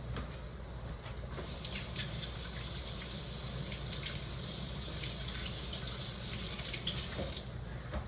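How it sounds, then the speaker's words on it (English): Hands rinsed under a running kitchen tap, a steady splashing water stream that continues without pause, close and moderately quiet, with no voices. "let me wash my hands right quick"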